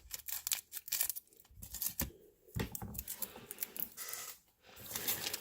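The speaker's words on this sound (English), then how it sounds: "Let's use the scissors on this one" Scissors snip and tear open a 2018 Panini Donruss baseball card pack with quick, close crinkling and cutting bursts of foil wrapper, fairly quiet, with no talking.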